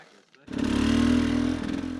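A dirt bike engine on a muddy, slippery forest single track revs up suddenly after a quiet moment and holds a loud, buzzing drone, close by, easing off slightly at the end.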